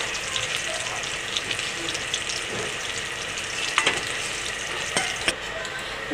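Bitter gourd pieces frying in hot oil, a dense, loud crackling sizzle that runs throughout, dotted with light spatula clicks as the pieces are moved, with no speech.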